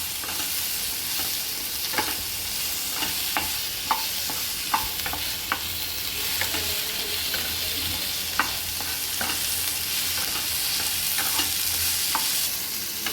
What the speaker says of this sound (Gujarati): લસણ આપણું બ્રાઉન કલરનું થાય ત્યાં સુધી સાતળવા દેવું